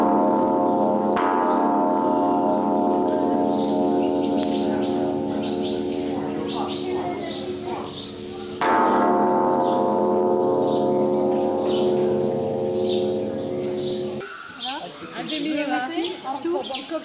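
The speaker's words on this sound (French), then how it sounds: "On se dirige vers la grosse cloche de 90 tonnes, la plus grosse cloche du monde à l'époque." A giant 90-tonne bell at a pagoda in Myanmar rings with a loud, sustained metallic hum, struck again partway through, with birds chirping and people talking around it.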